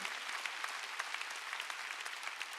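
A congregation applauding during a Sunday worship service at a church, a dense, even patter of many hands clapping together, sustained and moderately distant.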